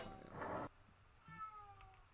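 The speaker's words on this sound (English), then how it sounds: "My cat wants out" A pet cat gives a short, loud meow close by, followed by a fainter, drawn-out second meow in a quiet room.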